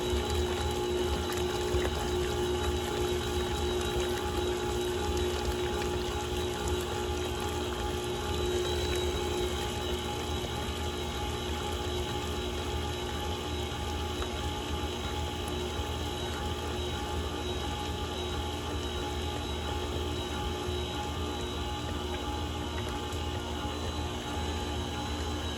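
An electric mixer runs on low speed through black Christmas cake batter with a constant mechanical whir and gear drone. The sound holds steady and close for the whole stretch, and no one talks over it.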